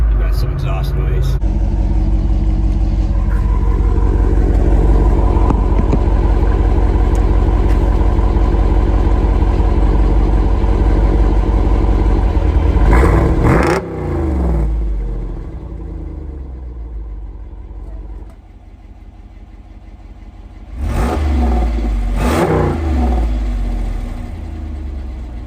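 A Jeep Wrangler Rubicon 392 V8 with a performance exhaust idles with a deep steady rumble, then revs loudly twice in sharp rising bursts, with someone talking over parts of it.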